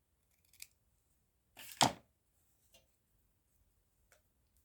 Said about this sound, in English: Going to cut it fairly small, close into the stamp.